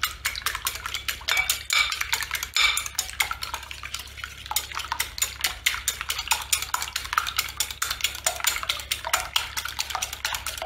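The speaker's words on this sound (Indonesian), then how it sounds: "Telur ini kita kocok dulu ya." Eggs being whisked by hand in a bowl for a sticky rice cake with custard topping, with rapid, continuous metallic clicks and scrapes sounding close and steady throughout.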